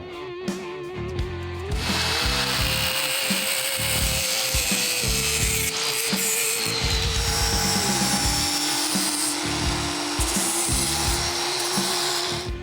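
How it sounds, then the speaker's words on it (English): A cutoff tool grinds through the splined end of a steel drive shaft for a Chevy race truck's cantilever rear suspension, producing a loud, continuous whining cut with a steady motor tone that shifts pitch slightly. "we'll just go grab the cutoff tool"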